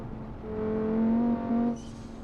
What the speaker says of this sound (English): this one definitely gets moving a lot quicker, and it makes really good turbo noises